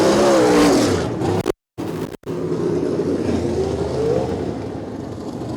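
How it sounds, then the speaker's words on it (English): Sprint car engines at a dirt oval race roar and whine at a distance as cars circle, with a car spinning out in turn two; brief dropouts break the steady drone. "And we got a car spinning around in turn number 2."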